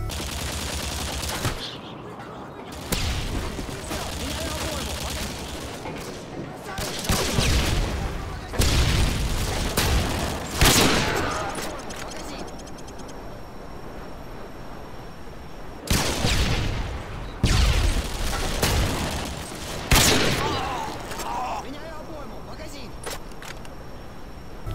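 Black Ops 2 Remastered gunfire from a trickshot sequence, several sharp loud shots in separate bursts with reverberant tails, mixed with game noise and someone talking between them.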